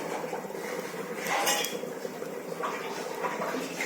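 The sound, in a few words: small iron wok being placed on the stove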